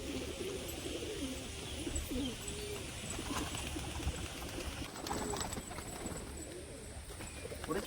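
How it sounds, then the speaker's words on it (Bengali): Soft, low coos of a female pigeon repeat in short rolling phrases against a steady hiss of outdoor background noise. "সাদা চোখের মধ্যে একটা মাদি পায়রা, এটার এবার বাজি দেখাবো"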